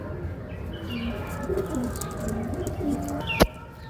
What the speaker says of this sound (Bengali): ওই দেখুন ডাকছে বন্ধুরা পায়রা